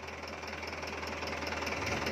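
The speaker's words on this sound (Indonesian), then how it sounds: "Suaranya masih ciri khas banget kanter ya." A Mitsubishi Colt Diesel Canter truck's diesel engine idles at an auction, a steady close knocking clatter with even rhythm and no talking.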